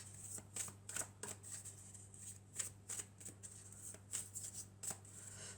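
Oracle cards of the Triade deck are shuffled close up in a quiet room, their crisp riffling flutters coming in repeated bursts over a faint low hum.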